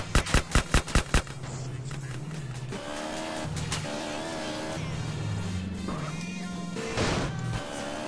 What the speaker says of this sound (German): Na, guck mal, selbst die schießen auf den.